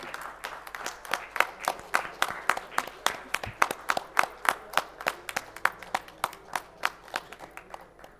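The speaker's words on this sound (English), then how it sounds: "A big round of applause for both of them." Scattered applause at an Islamic fintech forum award presentation, a small audience clapping in a loose, fairly regular rhythm of distinct claps that builds and then continues steadily for several seconds.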